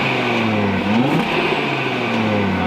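An Audi RS3 8Y five-cylinder engine running in sport mode, idling with a steady drone and a single quick rev blip about a second in before it settles back. It is close and fairly loud, with no voices.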